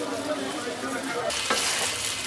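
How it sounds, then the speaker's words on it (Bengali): Polao rice poured into a pan of frying onion, ginger and garlic brings a sudden louder hiss, giving a close steady sizzle and crackle with a burst of stirring. "এখন আমি সেই পোলার চালগুলো দিয়ে দিতেছি।"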